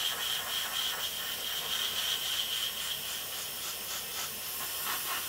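An airbrush sprays paint onto a Meng Mustang scale model, making a continuous close hiss with slight pulsing as the spray passes back and forth.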